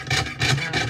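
A very fine-bladed saw cuts through wood in quick back-and-forth strokes, giving a close, rhythmic rasping of about three short strokes.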